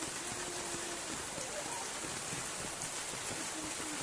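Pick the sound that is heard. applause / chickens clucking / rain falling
rain falling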